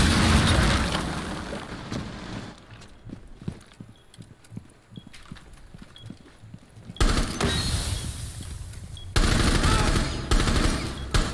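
Gunfire in Rainbow Six Siege comes as loud rapid automatic bursts, then a gap of quieter single shots and impacts, then more dense volleys of fire that fill the end.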